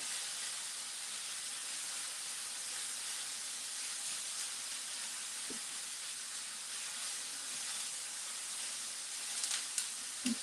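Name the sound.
pepper medley sautéing in olive oil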